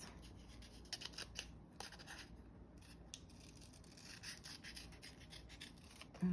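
Scissors cut paper for craft toppers in faint, quick snips and rustles close by, repeating irregularly over a quiet background.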